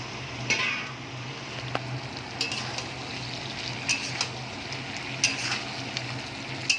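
Chicken pieces tossed into a pan of sauce and spices, stirred with a utensil and frying, giving a steady low sizzle with scattered scraping clinks, fairly quiet and free of talk.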